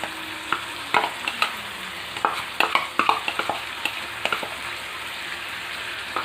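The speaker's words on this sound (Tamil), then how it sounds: "இதை நல்லா கலந்து விட்டுக்கலாம்." Onion, tomato and coconut paste stirred into Chettinad chicken gravy frying in a pan: a close, steady sizzle broken by scattered clacks and scrapes of the spoon, with no talking.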